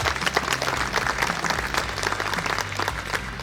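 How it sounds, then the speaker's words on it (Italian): Crowd applause at the Miss Italia Veneto Miss Solesino 2022 beauty pageant, dense sustained clapping from a large audience, fairly even in loudness with scattered individual claps standing out, no speech over it. "Un applauso naturalmente anche alle bellissime concorrenti del concorso."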